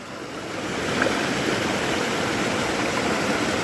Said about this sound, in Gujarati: સરસ મજાનું પાણી આવી રહ્યું છે